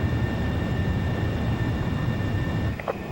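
Fighter jet engine in flight in Ace Combat Zero: The Belkan War, a steady, loud broadband roar with a faint high whine, holding constant before a brief dip near the end.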